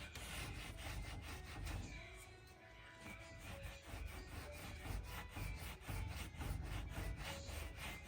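Shellac-coated wood on a roughly 100-year-old antique two-door display cabinet with ball and claw feet being rubbed down by hand, giving steady rhythmic scraping strokes close up, loud and continuous with no talk.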